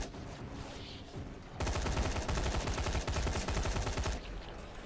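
Rapid video-game gunfire bursts out midway into a dense, steady stream of automatic shots, loud and continuous for a few seconds before easing back to quieter game ambience.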